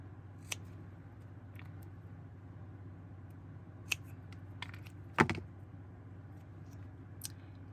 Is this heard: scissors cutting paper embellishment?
yes